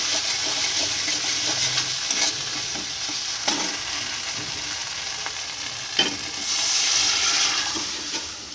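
Turmeric, chili powder and other spices sauté in oil in a pan, a steady close sizzle with occasional stirring scrapes and brief louder crackles throughout.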